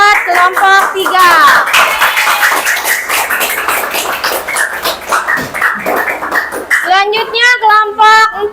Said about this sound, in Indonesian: Ya, tepuk tangan ya buat kelompok 3.